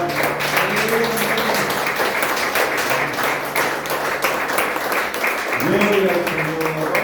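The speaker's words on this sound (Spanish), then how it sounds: "¿No quiere dar un aplauso al Señor por la palabra?" A church congregation claps steadily throughout, mixed with voices talking and calling out over the applause.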